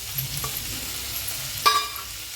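Yellow, red and green capsicum sautéing in a pan, a soft steady sizzle with a couple of brief utensil stirs and clinks, close and moderately quiet, no talking.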